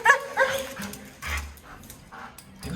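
A dog on a leash whimpers and gives a few short yips, high thin whines at the start followed by scattered soft vocal sounds and shuffling, close by.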